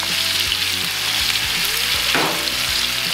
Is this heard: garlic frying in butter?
yes